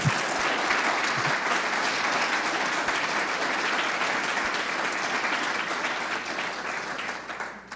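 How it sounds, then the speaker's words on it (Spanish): Dense, sustained applause from a large audience for a woman named Rosy at a foundation's presentation of its social model, loud and even throughout with no talking over it. "un aplauso, por favor"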